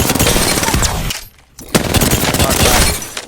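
Rapid automatic fire from an R-99 submachine gun in the Apex Legends firing range, loud and close, in two sustained bursts separated by a brief pause.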